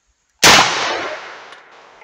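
A single loud, sharp report as a .50 caliber sabot round is fired at a toaster on a shooting range, an instant crack followed by a decaying echo trailing off over about a second and a half.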